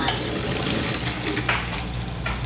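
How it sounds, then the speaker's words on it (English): Water poured from a tap onto about one and a half cups of flour to make gravy paste, a short close splashing trickle with a couple of brief louder gushes. "And what I do is I just add water to it."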